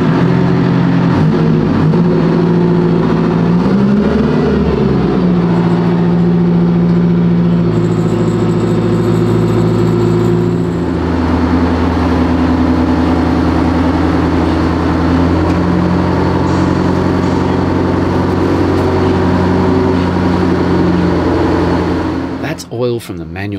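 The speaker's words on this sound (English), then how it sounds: "the boys want to put the engine and transmission into a stress test." A World War II tank engine and transmission run steadily under load during a stress test, a loud continuous mechanical drone with a shift in pitch partway through and a brief clatter at the end.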